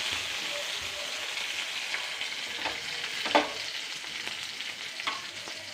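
Food fries in a pan as it is stirred, a steady soft sizzle broken by a few scraping and clinking strokes of the spoon, with no talking.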